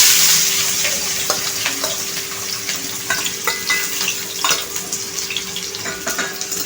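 Onion, green chilli and garlic frying in hot oil, a loud continuous hiss and sizzle with frequent stirring scrapes and clinks from a spoon in the pan, heard up close.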